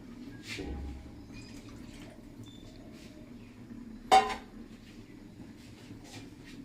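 Water poured into a mix of masala spices in a home kitchen while cooking, a short splash and clink standing out alone amid quiet background clatter, with an earlier soft pour.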